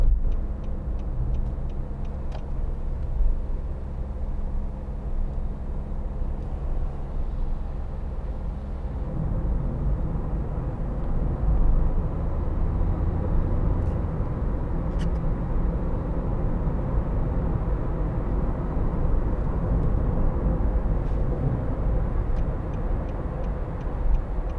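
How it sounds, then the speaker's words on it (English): Diesel engine of a 2013 Nissan Note 1.5 dCi Acenta while driving, a steady low rumble with road noise heard from inside the cabin, continuous and moderately loud without talk. "I'll try and show you the diesel engine again"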